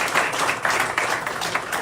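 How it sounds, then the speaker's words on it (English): A small studio audience claps briefly for the other islands during a sports talk show, a short burst of close, uneven clapping. "Let's give a round of applause to all the other islands that we serve."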